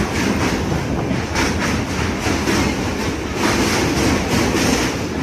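Train crossing the long Mahanadi river bridge near Cuttack, a loud continuous rolling rumble with rhythmic clickety-clack of wheels over the rail joints, heard from on board.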